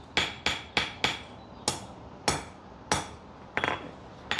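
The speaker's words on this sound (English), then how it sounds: "I want the hammer to be able to pat, like when I actually taper it, to pass off the side of the anvil" A rounding hammer strikes steel on an anvil in a blacksmith studio, landing about a dozen sharp, ringing blows at an uneven rhythm, some in quick pairs, each ring fading quickly, close and clear with no talking.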